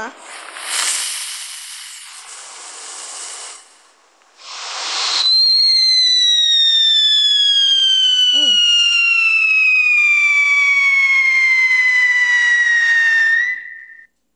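A Scream 02 firework gives a few bangs and crackles, then a long, loud descending whistle that rings for about eight seconds before cutting off, heard close and alone.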